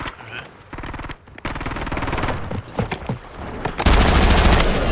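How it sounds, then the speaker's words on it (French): Call of Duty gameplay gunfire, with rapid machine-gun bursts and scattered shots, close and loud, building to heavy continuous fire near the end. "Pourquoi ils sont deux à me tirer dessus?"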